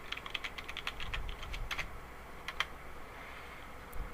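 Typing on a computer keyboard makes a quick run of close, light key clicks that thins out into a few scattered taps over a faint background hiss.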